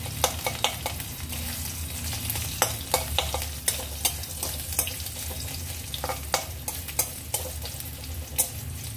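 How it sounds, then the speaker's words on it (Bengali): Garlic fries in a pan of oil with a continuous soft sizzle, broken by frequent sharp clicks and scrapes of stirring against the pan, heard alone with no talk. "রসুনটা একটু ভাজা হয়ে যাবার পর শাকটা দিয়ে দেবো।"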